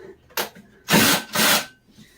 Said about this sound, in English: let me turn this up to drill mode